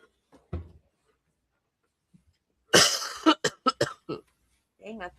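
A man in a courtroom gives a single short cough, then after a pause bursts into a harsh, rough cough followed by several quick, sharp hacks, with a brief murmur at the end.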